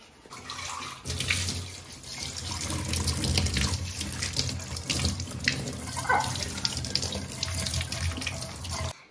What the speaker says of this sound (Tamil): சமைச்ச பாத்திரத்தை கழுவி ஒழுங்கா வைக்கணும், அதுதான் முக்கியம்.